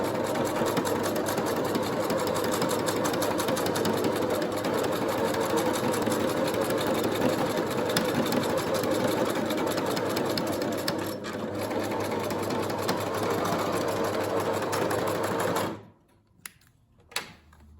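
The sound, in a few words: sewing machine stitching pintucks along folded fabric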